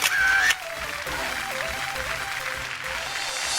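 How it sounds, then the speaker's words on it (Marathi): An audience on a Marathi television show claps steadily together, opening with a louder burst of applause that settles into an even, sustained patter with a faint tonal hum underneath. "एकदा जोरदार टाळ्या होऊन जाऊ देत."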